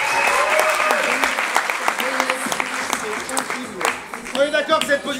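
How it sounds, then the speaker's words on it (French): An audience at an improv theatre festival in Paris claps loudly and continuously. Scattered whoops and voices rise above the steady applause throughout. "on peut les applaudir très fort"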